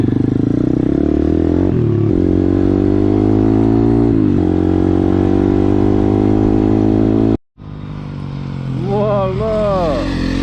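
A 150cc RXF dirt bike ridden hard on a hard enduro course, with big wheels. The engine drones loudly and steadily, the revs rising and falling. It cuts out briefly near the end, then revs back up with sharp pitch sweeps.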